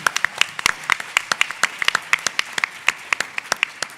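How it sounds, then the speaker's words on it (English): Audience applause at a Greenwood centennial town hall for survivors and descendants, a steady run of sharp, fairly close hand claps spread across the crowd, lasting the whole stretch with no voices. "Y'all can clap for that."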